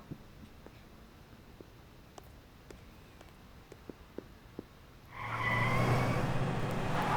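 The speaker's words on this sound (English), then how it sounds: "We got cars." Scattered faint clicks over a low hum, then a steady engine roar swells in as a car drives in the video game Xenoblade Chronicles X: Definitive Edition, continuing loud to the end.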